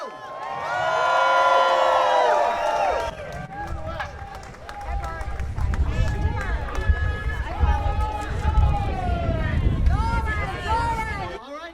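A large New York City protest crowd cheers and shouts; a loud amplified voice rings out first, then a broad roar of voices and whoops swells and stays steady to the end.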